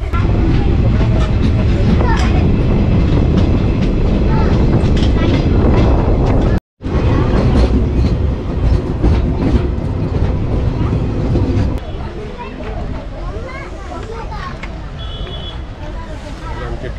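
A moving passenger train on a route to Ratnagiri, heard from inside a crowded coach: a loud, continuous rumble and rattle of wheels and carriage, with passengers' chatter mixed in throughout.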